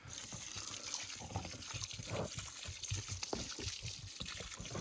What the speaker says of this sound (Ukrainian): ми цю воду набирали з водопою, де вода вже застояна. Звідти корови пили, так що виливаємо це